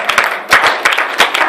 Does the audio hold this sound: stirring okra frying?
no